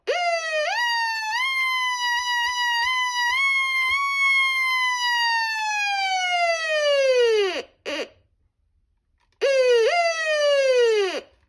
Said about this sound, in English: That's a really cool siren, I gotta say.